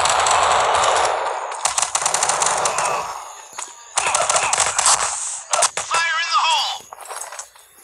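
Pistol gunfire in a video game online shooter match, loud rapid sharp shots in quick bursts with short gaps, near and harsh, with other game noise and brief chatter mixed in.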